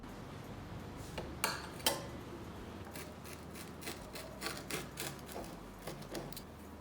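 A freshly cooked veg cheese pizza is cut in the pan in which it was made, on the stovetop with no oven, giving faint scraping and clicking strokes, with two sharper knocks near the start, over a low steady background.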